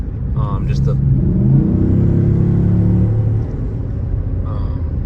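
Cadillac Escalade fitted with a DOD delete and upgraded exhaust, cruising on a test drive with a steady low engine rumble and slight rise under load, a possible exhaust leak at the left collector; a person talks over it.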